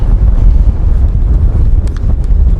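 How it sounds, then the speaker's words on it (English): Strong wind buffets the microphone on Southend pier, a continuous loud rumbling roar with gusty swells throughout. "Oh, that is windy."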